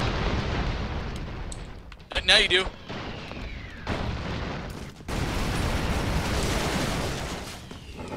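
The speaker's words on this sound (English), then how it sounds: "Oh, that explosion." Explosions in the video game Broforce boom out as loud, broadband blasts, with one sharp burst near the two-second mark, over busy game noise while a person talks throughout.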